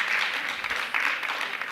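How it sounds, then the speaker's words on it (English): Audience applause for students at a junior high spelling bee in Merced County, a brief steady patter of clapping from a seated crowd, moderately distant. "big round of applause for all of our students"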